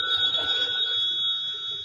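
A telephone bell rings steadily as a sound effect in a 1944 radio comedy broadcast, a continuous high trilling tone heard clearly with no talking over it.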